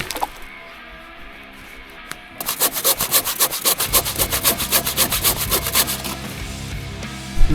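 A hand saw cuts firewood in a forest, starting after a quiet pause with steady, rhythmic back-and-forth rasping strokes, close and fairly loud.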